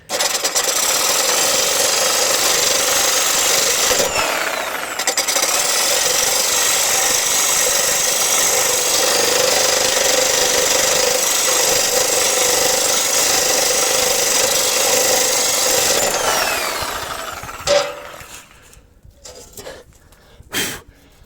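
A reciprocating saw fitted with a chisel attachment scrapes rust off metal, a loud continuous rasping buzz that runs steadily for most of the clip before cutting out, leaving brief scraping clatter at the end.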